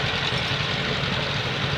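A small John Deere H tractor at a thresheree parade runs with a steady low engine rumble and chugging idle, loud and close, brief and unchanging.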